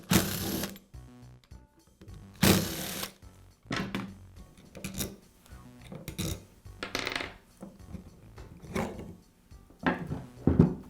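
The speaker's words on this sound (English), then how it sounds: "Next, I'll remove the upper half of the motor from the lower half. It's secured with 2 screws." Clicks, taps and metallic clatter as the two motor halves of a Porter Cable router come apart and their two securing screws are removed, close and intermittent with irregular handling knocks.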